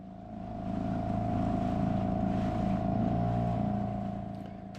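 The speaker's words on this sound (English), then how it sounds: "we quickly launch the dinghy and head to the dinghy dock" Motor dinghy running across Soufriere Bay, Saint Lucia, toward the dinghy dock: a continuous steady outboard drone with low hum, water wash and wind noise, close and even for several seconds.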